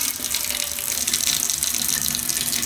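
Hot water gushes steadily from a kitchen tap into a sink, a continuous close splashing rush with no talking.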